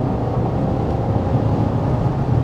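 Rolls-Royce Cullinan SUV under full-throttle acceleration at about 120 on a highway, heard from inside the cabin as a steady, dense low engine and road roar that stays constant without any talk.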